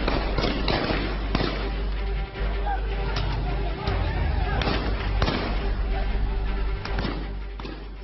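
A volley of sharp cracks and bangs, like gunfire, rings out in Pakistan over loud crowd noise and traffic. The reports come several at a time at irregular intervals and are fairly close.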